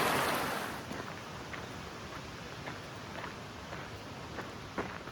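A river flows during a hiker's crossing on the Pacific Crest Trail near Yreka, a faint, steady rushing that opens with a burst of wind buffeting the microphone and carries a few soft splashes.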